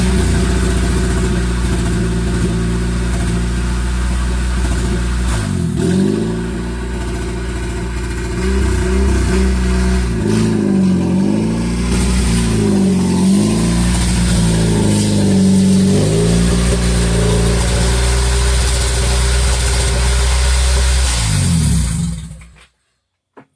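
Engine of a custom Honda Civic exo build running loud and close as the car is pulled into a shop, idling with repeated revs rising and falling before cutting off abruptly at the end.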